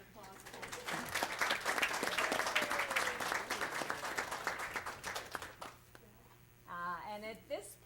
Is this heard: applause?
yes